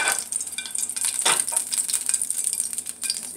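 Eggs frying in a pan alongside crusted home fries and beef, a steady bright sizzle with occasional scraping and stirring clatter, close and continuous.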